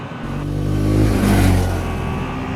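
Lexmoto LXS 125cc four-stroke, liquid-cooled single-cylinder motorcycle engine revving on twisty roads, a steady loud drone swelling through the middle and easing off slightly at the end, with no talking.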